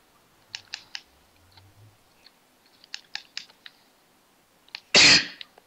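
A single loud, sharp sneeze bursts out near the end, preceded by scattered clicks and soft taps in an otherwise quiet room.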